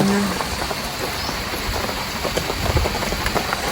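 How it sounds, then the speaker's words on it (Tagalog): Steady rain falls on a roof over a rural hut, a dense, even patter that runs throughout at moderate level with no talk. "Ayan po at umuulan."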